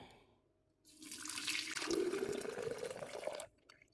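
Coffee being poured from a strainer into a plastic juice jug of about a liter and a half, a steady splashing liquid stream running for a couple of seconds before stopping, close and fairly loud.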